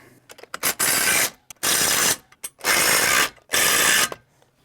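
A ratchet wrench tightens nuts on a boat ramp handle in four loud, close bursts of rapid clicking, each about a second long, with short gaps and a few isolated clicks between.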